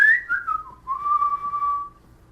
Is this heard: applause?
no